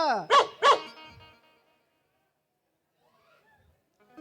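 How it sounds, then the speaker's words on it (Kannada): Two sharp barks from a dog come in quick succession, followed by near silence. "ಒಂದು ಹುಚ್ಚನಾಯಿ ಕಡ್ಯಾಕ ಬಂದಿತ್ತು"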